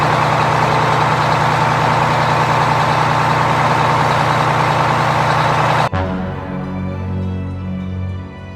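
A loud, steady diesel tractor engine idling with a heavy, chugging rumble, which cuts off abruptly near the end to quieter lingering tones.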